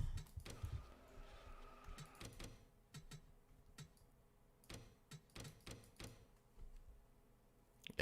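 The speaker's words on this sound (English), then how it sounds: "That's the sound of my foot hitting the pedal." Soft irregular taps of a foot striking a pedal controller during a NASCAR Racing 2003 sim session, faint clicks scattered over a quiet indoor room background with no voice.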